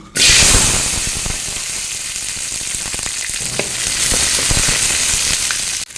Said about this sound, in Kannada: ಇವಾಗ ಎಣ್ಣೆ ಬಿಸಿಯಾಗಿದೆ ನಾನೊಂದು ಹತ್ತು ಹಸಿಮೆಣಸು ಹಾಕ್ತಿದ್ದೇನೆ